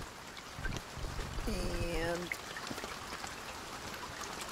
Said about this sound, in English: No, it's rain.